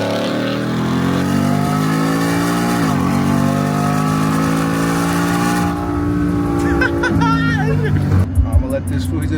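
Tuned Ford F-150 pickup accelerating hard, its engine note climbing steadily through a long sustained pull with rising whine, loud and close from inside the cab, then easing off near the end as voices chatter over it.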